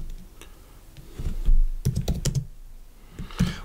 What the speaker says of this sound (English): but actually type it out.